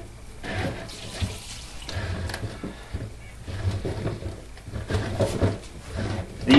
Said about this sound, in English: I am definitely gonna spill a bunch of water because I'm not gonna drain it